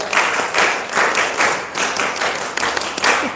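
Scout-style rhythmic group clapping (tepuk pramuka) at a scout outreach session in South Kalimantan, a patterned sequence of claps in bursts, moderately loud and fairly close, with no talking.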